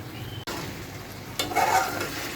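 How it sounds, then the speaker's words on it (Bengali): Pumpkin with dried fish and shrimp sautéing with sugar in a pan, a soft steady sizzle with scraping stirs, growing louder and busier near the end. "এই চিনিটা সহই আমি এটাকে খুব ভালো করে কষিয়ে নিব।"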